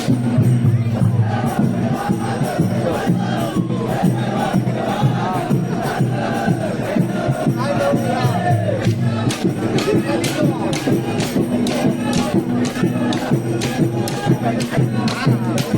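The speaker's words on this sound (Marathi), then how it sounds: "फुल गर्दी वाढत चाललेली आहे इकडे." A dense, steady crowd roar at a Shimga festival fair in Kumbhavade village, Rajapur, on its final day, with continuous voices and babble filling the air loudly throughout.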